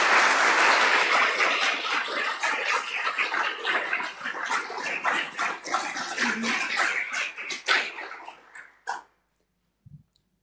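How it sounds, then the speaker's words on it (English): Applause for staff at an awards ceremony, a loud burst of clapping that thins into scattered, uneven claps and dies away to near silence, with a couple of faint knocks at the very end. "Can I please get a round of applause for our amazing staff?"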